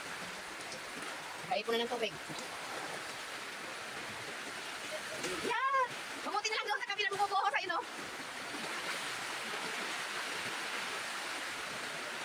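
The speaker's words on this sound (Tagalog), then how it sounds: "ang lakas na ng ulan" Heavy rain pours in a constant hiss, while people talk briefly and exclaim over it at intervals.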